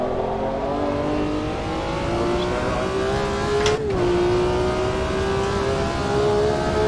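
A BMW M1 Procar engine in the racing game Automobilista 2 at Buenos Aires revs loudly and steadily, pitch climbing, dipping briefly at a gear change near the four-second mark, then climbing again.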